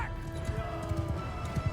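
Horse hooves clip-clopping in Mount & Blade II Bannerlord, a steady patter of galloping steps under a tonal game background, with someone talking over it.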